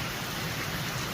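Heavy rain pouring down in a Sonoran Desert garden, a dense, steady hiss of falling water filling the whole stretch without pause.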